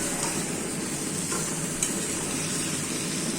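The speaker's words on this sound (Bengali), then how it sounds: "এখন আলুগুলো দিয়ে দিব। ভালোভাবে নেড়ে ছেড়ে দিব।" Potatoes sizzle in a pan for a foli fish and tomato curry, a dense, even frying hiss that stays close and constant throughout with faint stirring underneath.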